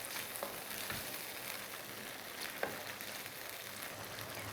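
Spice-coated chicken for korma being stirred in a pan, a steady soft sizzle with faint scraping and a couple of brief clinks, fairly quiet throughout.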